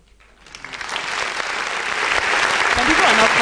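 Audience applause at a youth leadership debate final swells from quiet to a full, dense wash of clapping that grows steadily louder across the room.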